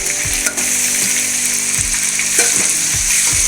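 Fish curry base sizzling and frying steadily in a pan as tomatoes are tossed in, continuous loud crackle with a few soft thuds and stirring scrapes, no talk.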